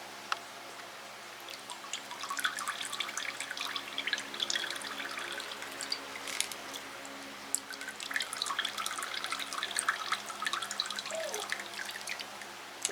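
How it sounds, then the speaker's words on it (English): Water drips and trickles from a sopping-wet plant lifted out of its soak, a patter of small irregular drops falling close by into water, continuous and fairly quiet, with no talking. "Let her drip a little bit."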